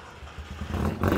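A stock, non-ported 1.2-liter 12A rotary engine in a Mazda RX-7 runs nearby in Tokyo, a short, rough low burble that grows louder over about a second.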